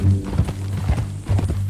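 Horse hooves clip-clop at a steady walking rhythm in the Western video game Red Dead Redemption 2, close and clear with no talking over them.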